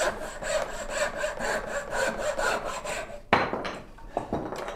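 A turning saw, a type of coping saw, cuts through wood in quick, steady back-and-forth strokes, loud and close, then pauses into a few separate scraping strokes.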